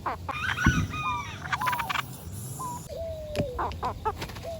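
Several birds call out with short clucks and honking squawks, overlapping one another in a busy farmyard chorus.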